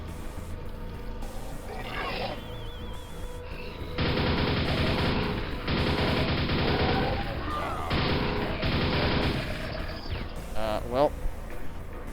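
Video game gunfire from a shooter map, Contract Revoked, rattles in repeated rapid bursts with short pauses between, loud and close, with some crashing effects between volleys.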